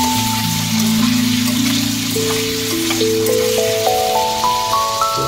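Potatoes frying in a pan for a pointed gourd and potato curry give a steady, soft sizzling hiss that runs the whole time beneath a rising melodic tune.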